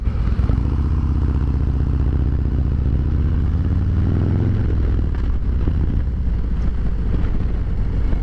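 A 2023 Harley-Davidson Road King on a test ride, its loud, steady engine rumble close up and rising briefly in revs midway, with wind and road clatter over it.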